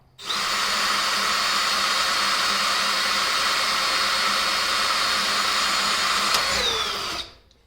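A steady, loud whine of a power drill boring through an RV wall runs continuously for several seconds, then winds down and stops.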